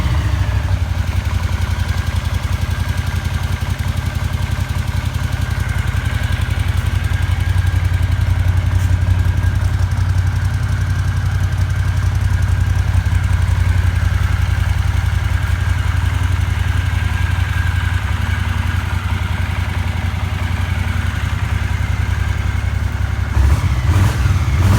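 A 1979 Honda CX500 Custom motorcycle engine fires up cold and settles into a loud, steady close-up idle, its rumbling pulse continuing evenly for the whole stretch with a brief change near the end.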